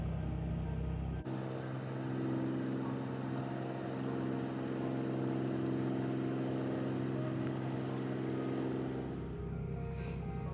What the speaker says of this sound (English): Cruise ship is a cruising.